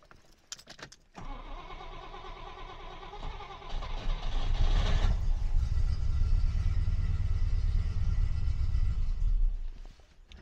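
Rover P6 V8 with an automatic gearbox, in poor condition, cranking and catching on choke, then settling into a rough, loud idle that swells midway and runs steadily before cutting off near the end.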